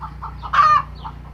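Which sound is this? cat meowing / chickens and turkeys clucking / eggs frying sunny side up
chickens and turkeys clucking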